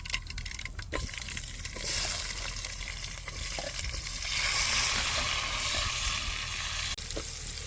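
Mustard seeds and urad dal frying in hot oil in a pan, a loud, continuous sizzle with scattered pops and stirring scrapes, swelling slightly toward the end.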